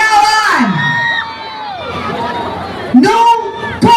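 A political rally crowd shouts and cheers loudly, with rising and falling whoops and many voices roaring together in close, dense bursts that swell again near the end.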